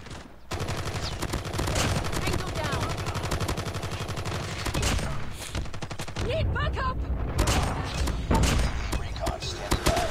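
Holger 26 machine gun firing in Call of Duty Mobile, a long fast continuous rattle of shots for nearly the whole stretch, loud and close, with a voice talking over the gunfire at times.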